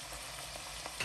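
Chopped tomatoes hit minced meat frying in a pan for keema matar, giving a steady close sizzle with soft crackles and stirring noises throughout the short moment.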